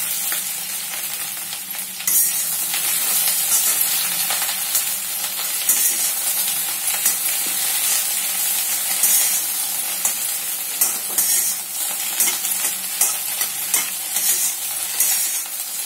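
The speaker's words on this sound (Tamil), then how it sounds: "இப்போ வந்து வெண்டைக்காயை போட்டு முதல்ல வதக்கிக்கலாம்." Sliced okra sautéing in oil in a pan, a steady bright sizzle with stirring scrapes that runs loud and close throughout.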